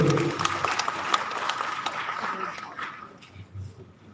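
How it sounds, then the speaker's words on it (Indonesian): Applause from the audience at the inauguration ceremony of the Ikatan Pemuda Aceh Utara youth association in Banda Aceh, fairly loud at first, then thinning and fading toward the end. "Kita beri tepuk tangan yang berbahagia Bapak Ibu"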